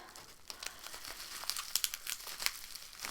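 Plastic wrap and bubble wrap crinkle close up while a package is unboxed, a quiet run of irregular rustles and crisp crackling pops that bunch together midway.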